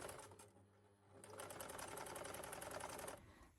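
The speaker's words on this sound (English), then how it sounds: "I'm going to take it to the sewing machine." A sewing machine stitching an old jacket into a bag runs with a rapid mechanical rattle, pausing briefly before stitching steadily again at close range.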